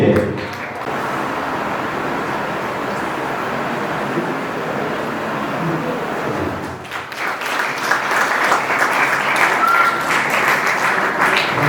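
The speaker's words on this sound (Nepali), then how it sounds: "जोरदार ताली।" Applause from a crowd at a debate competition, a dense patter of clapping that swells louder in the second half and continues throughout.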